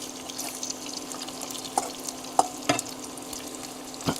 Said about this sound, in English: just keeping it on this low heat's pretty good because the bacon grease is already hot